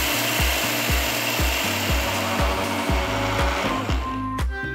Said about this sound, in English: transfer them to a mixer jar. Just grind it all once to get a slightly coarse mixture